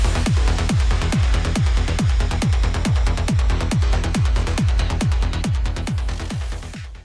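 Acid 303-style bass synth built in Sylenth from a saw wave with FM sync: a fast, steady run of plucky, resonant notes with squelchy downward sweeps, loud and continuous before fading at the very end.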